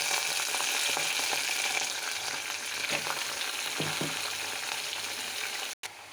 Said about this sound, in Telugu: అందులో కరివేపాకు వేసి కొంచెం తరిగి పెట్టుకున్న వంకాయ ముక్కలు వేయాలి.